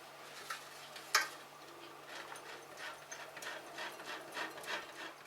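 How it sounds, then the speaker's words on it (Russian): Hard cheese grated on a fine grater into a plate: soft, repeated rasping strokes in an irregular rhythm, close and fairly quiet, with a sharper scrape or two near the start. "Беру тарелочку и натираю на мелкой терке твердый сыр"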